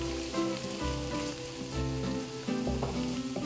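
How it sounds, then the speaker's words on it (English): Mushrooms sprinkled with flour cook in a pan while being stirred for a gravy, giving a steady close frying sizzle with a low rumbling hiss and occasional stirring scrapes throughout. "We're gonna wanna cook this for just a few minutes because we need to cook the flour flavor out of this flour."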